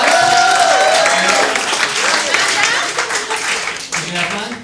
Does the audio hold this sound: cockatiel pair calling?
no